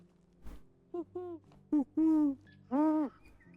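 In the video game Medieval Dynasty, an owl hoots several times in a broken series of clear, wavering calls, fairly close, with faint ambient sound between.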